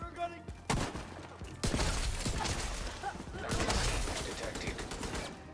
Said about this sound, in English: You can't see the fireworks during the day